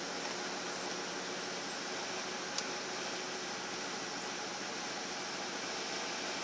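Cadillac Eldorado engine running after a cold start following five years of sitting, a faint, steady idle hum under broad hissing noise with one brief click midway.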